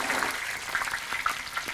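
Ginger and garlic sizzling in hot oil in a wok, the base for a Sichuan-style dry-pot bullfrog dish; a steady, close hiss of frying with small crackles and spits throughout.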